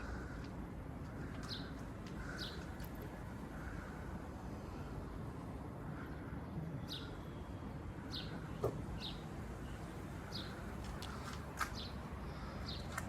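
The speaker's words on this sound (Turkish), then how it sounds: "Geliyor kuşlar yavaş yavaş." Birds calling outdoors as a flock comes in: short, scattered chirps, some near and some far, over a constant wind rush and low background rumble.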